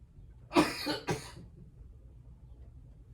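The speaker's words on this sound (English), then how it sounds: "My hubby is sick, so he's coughing." Two harsh coughs close together, the first stronger, then quiet room noise.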